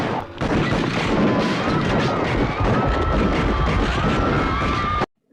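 A loud, continuous barrage of crackling gunfire effects, played for a school Independence Day skit depicting the Jallianwala Bagh massacre, runs dense and unbroken for about five seconds before cutting off abruptly.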